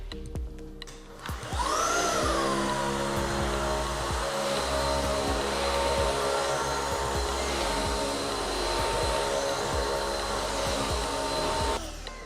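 A machine with suction and drying functions is switched on, its motor whining up to speed and then holding a loud, steady roar with a high tonal whine before cutting off near the end.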